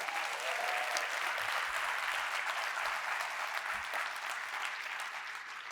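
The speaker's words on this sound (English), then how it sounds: "Can we give him a big hand?" Sustained applause from a large audience at a presentation, steady and dense clapping that continues throughout before slowly tapering near the end.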